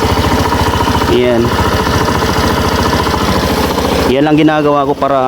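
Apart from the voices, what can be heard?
Suzuki Burgman Street scooter engine running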